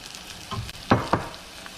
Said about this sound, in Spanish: Al mismo instante echamos nuestro arroz así seco, lo esparcimos por toda la cazuela